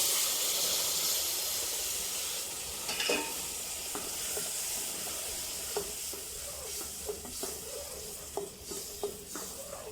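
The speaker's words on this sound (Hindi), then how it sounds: "दूध हम आहिस्ता आहिस्ता शामिल करेंगे क्योंकि सूजी बहुत गर्म है" Milk poured slowly into hot browned semolina for turmeric halwa, hissing and sizzling steadily while a spoon scrapes and stirs the pan in repeated strokes, close and alone.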